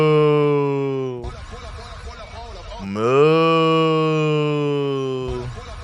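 A voice imitates cattle with two long, loud, drawn-out moos, each held steady and then sliding in pitch, mocking a crowd at a political speech.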